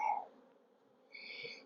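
Honeybee drones buzz inside an abandoned hive that has stood five years, a faint hum swelling briefly at the start and again toward the end, close and steady without voices.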